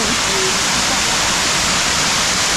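A waterfall pours down near a hillside village, a loud, dense and steady rushing roar of falling water that fills the whole stretch without a break.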